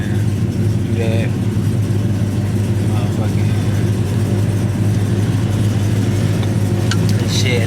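A Dodge Challenger R/T idles while warming up, a steady low engine rumble up close with a faint voice in the background now and then.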